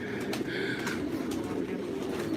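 Pigeons in a breeder's loft coo in a steady, close chorus with a few brighter calls mixed in.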